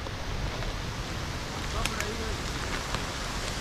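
Rain falls steadily on a creek mouth during a fishing trip, a constant hiss with light patter and a few faint sharper taps.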